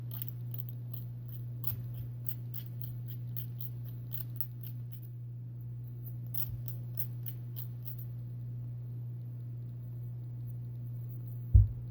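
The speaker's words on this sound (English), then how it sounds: "so I'll just trim that excess off the top" Scissors trimming an excess nail polish strip make a series of small, crisp, close snips spread across the clip, faint over a steady low electrical hum, with one sharper click near the end and no talking.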